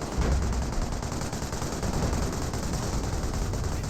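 Dense gunfire and artillery shots in the Company of Heroes video game, a continuous loud barrage of rapid overlapping shots and booms with no break throughout.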